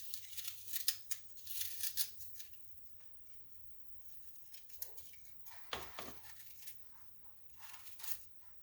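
A paring knife peels a washed apple at close range, giving soft, intermittent scraping and tearing strokes with brief crisp bursts and quiet pauses between them.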